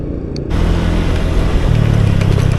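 A car passes on a bumpy, potholed asphalt road on the way to Leuwi Sapi in Cimande, its engine swelling suddenly to a loud, steady rumble close by.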